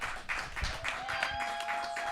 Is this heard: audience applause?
yes